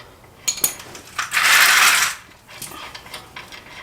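A hand ratchet clicks briefly and then rasps steadily while loosening brake caliper bolts on a Hyundai Ioniq. A few metallic ticks come first, then one sustained ratcheting burst, then faint scattered clicks, close up and with no talking.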